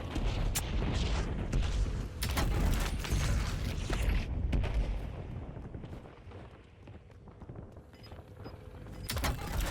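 Heavy gunfire and explosive booms from an artillery strike in the shooter game Warzone, loud dense bursts and blasts in the first half easing into lower rumbling and scattered shots, with a few sharp cracks near the end.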